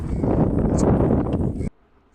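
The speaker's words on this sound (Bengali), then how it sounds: "অনেক বাতাস হচ্ছে আসলে বাতাসের মধ্যে কথা বলা অনেক কষ্টসাধ্য পেশা" Strong wind on a boat buffets the microphone in a low, blustery roar for over a second, then cuts off abruptly into near silence.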